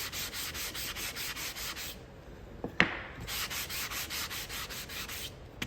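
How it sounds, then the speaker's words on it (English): Rhythmic back-and-forth strokes of a wood block being sanded by hand, close and steady, with a brief pause and a small knock midway. "That's all it takes, just a little bit of sanding."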